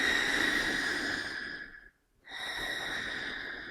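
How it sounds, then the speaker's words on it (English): Breath rushes in and out through a garden hose held in the mouth, two long airy hissing strokes separated by a brief pause, close and fairly quiet. "We put the garden hose in our mouth, cup it with our lips, and simply breathe in and out while sucking on the hose."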